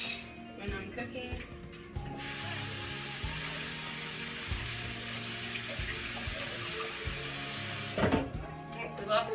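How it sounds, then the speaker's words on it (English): Tap water runs steadily into a kitchen sink while asparagus spears are rinsed under it, a continuous broadband rush lasting several seconds with someone talking over it throughout. "Rinse your asparagus off. I rinse everything off when I'm cooking."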